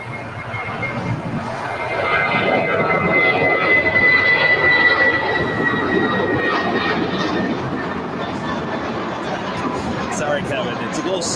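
A KLM airliner at LAX gives a moderate, steady jet rumble with a thin whine that swells around the middle and then eases, while people talk over it.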